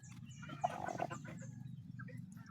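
Brooding hens sitting on their nest give low, murmuring clucks, with a few sharper calls breaking through near the start. The sound is close, soft and continuous, with no talking.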